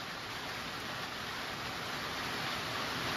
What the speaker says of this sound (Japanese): 屋根がトタンだから雨の音でかいでしょ